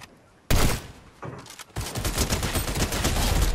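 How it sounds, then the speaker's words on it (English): Gunfire in a Fortnite match: after a quiet moment, a loud blast is followed by another shot and then rapid, continuous fire close by. "We're getting shot from right here."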